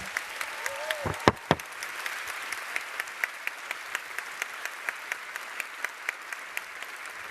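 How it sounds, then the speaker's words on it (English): Audience applause at the European Youth Event closing session: a crowd's steady clapping, moderately distant, with a rhythmic unison clap pulsing regularly through it and a few louder sharp bangs early on. "Please give them a round of applause."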